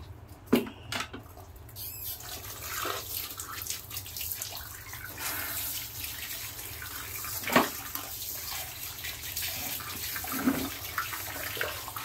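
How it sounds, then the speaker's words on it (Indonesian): Tap water runs steadily as a whitened sneaker is rinsed under it, with a continuous close splash, scattered louder spatters and handling knocks, and no talk. "dibilas dulu aja biar kelihatan masih apa enggak nodanya"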